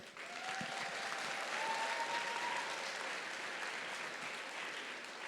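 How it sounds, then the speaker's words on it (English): Audience at a FIRST robotics district event opening ceremony applauds for donors, a dense, steady wash of clapping that holds at an even level, moderately distant, with no speech over it. "Can we give them a round of applause?"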